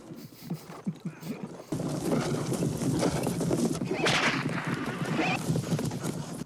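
Horses gallop in a 1983 fantasy film scene, starting with a short run of rhythmic hoofbeats before a louder, dense rush of hooves and commotion takes over, fairly near and continuous.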